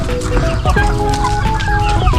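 Chickens on a backyard poultry farm cluck and squawk in short repeated bursts, close and fairly loud, with overlapping calls from several birds.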